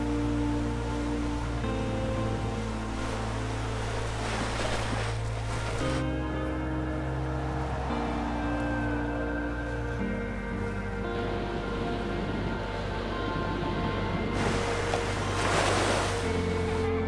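Waves washing ashore on Patara Beach, Turkey: a continuous surf wash with low rumbling swells, swelling and receding over a steady background hum, fairly loud and unbroken, with no talking.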